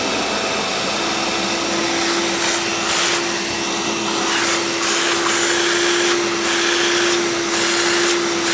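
Hoover Dial-A-Matic Power Drive U6039 upright vacuum running in tool mode, a steady loud whine with a constant motor tone and rushing airflow that rises and falls slightly as the hose attachment is moved.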